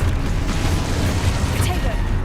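Fiery Confringo spell explosion in Hogwarts Legacy, a loud rumbling boom with a crackling burst tail, continuous and heavy in the low end throughout.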